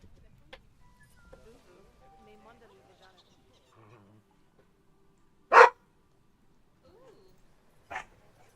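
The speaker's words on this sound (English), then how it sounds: "My dog's barking." A dog in the house gives two sharp, separate barks a few seconds apart against quiet game sounds, the first loud and the second fainter.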